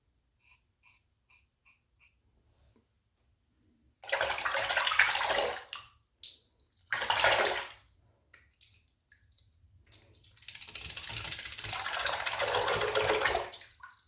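A butterfly-style adjustable razor being shaken in water, with bursts of sloshing and splashing separated by short pauses, after a few faint taps and drips at the start, close and moderately loud.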